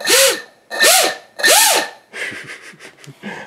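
Skyzone Theer FPV racing wing motor at low throttle, giving three loud rising-and-falling whirring bursts in quick succession, followed by quieter, choppy buzzing pulses.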